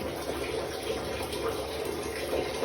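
Water runs steadily from the tap of a Haier 15-litre electric geyser, a close, continuous broadband splash and hiss that holds at an even level without pause.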